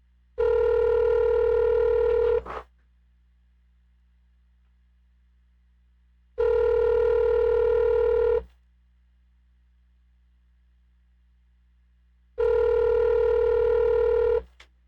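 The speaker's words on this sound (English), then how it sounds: "I want to dial her number now and see what she has to say" A telephone ringback tone on an outgoing call sounds three times, each steady buzzing tone lasting about two seconds with roughly four seconds of silence between, loud and alone without talk.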